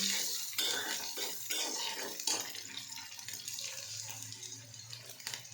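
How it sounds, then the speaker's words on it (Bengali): A spoon stirs garlic, ginger and green chilli frying in a pan, scraping and clinking against the metal over a soft sizzle, with several scrapes close by in an uneven rhythm. "নাড়িয়ে নিই।"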